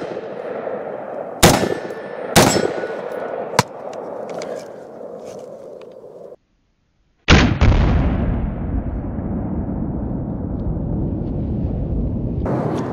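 Several sharp, loud shots from an IWI Tavor X95 bullpup rifle at an outdoor range, spaced irregularly with ringing decay after each, followed by a brief gap and a heavier blast-like burst that trails off into steady noise.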